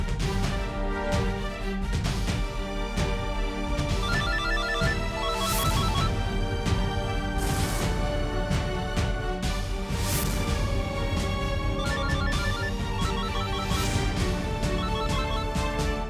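A phone rings unanswered in a Hindi family household, its repeating electronic ringtone melody playing over continuous background music with no talk.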